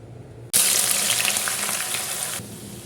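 Thinly sliced onions for chicken biryani drop into hot oil and burst into a loud, steady frying sizzle that holds for about two seconds before abruptly cutting out.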